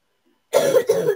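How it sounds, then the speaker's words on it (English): A little girl coughs twice in quick succession, close by, after a moment of silence. "it's making my little sister cough just mentioning it"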